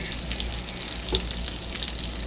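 New York strip steak sizzling steadily in a hot pan during basting, a dense constant fry with a few small pops and scrapes.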